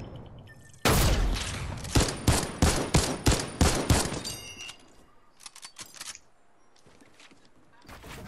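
Rapid gunfire from a video game shooter bursts in loudly, a run of sharp evenly spaced shots followed by a few fainter scattered cracks near the end.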